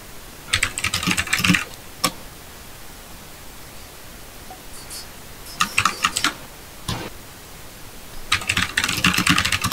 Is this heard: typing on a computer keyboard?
yes